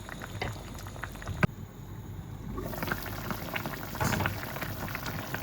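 A pot of meat stew bubbles at a steady simmer, soft gurgling and popping throughout, with a sharp knock early on and no voices.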